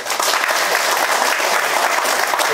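A church audience at a Lent special lecture applauds, giving steady, loud, continuous clapping throughout with no voices on top.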